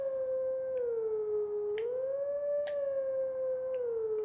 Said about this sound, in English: And it's as simple as that to howl your first tune